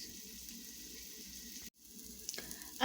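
Onions sizzle steadily in a pan, cooking down for a homemade Hamburger Helper; the frying hiss cuts out briefly midway, then resumes with a few small clinks and a louder clatter at the end.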